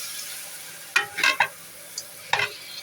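Potatoes are added to a frying pan and stirred with a spatula, producing a few sharp scraping and sizzling bursts with short pauses between them, close and moderately loud over a quiet background.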